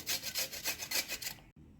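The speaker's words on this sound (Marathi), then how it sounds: "जाड किसणीनेच आपल्याला बीट किसून घ्यायचं आहे" Beetroot is rubbed against a coarse grater in quick rhythmic strokes, about a dozen close raspy scrapes that end abruptly, with no talking.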